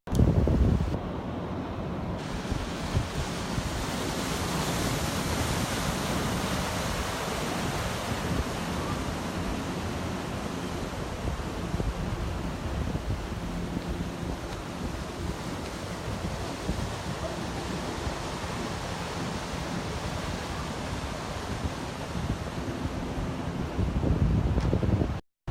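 Ocean waves roll in at a surf spot where surfers wait offshore, a steady broad wash of surf mixed with heavy wind buffeting the microphone, continuous for the whole stretch with no distinct breaks.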